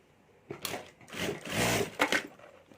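A sewing machine stitches three stacked pockets together on a homemade multi-pocket card-holder purse, making short mechanical whirring bursts that stop and start, close up and moderately loud with no talking.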